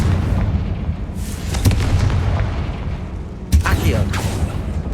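Confringo fire spell exploding in the video game Hogwarts Legacy, two booming blasts over a steady rumbling game background.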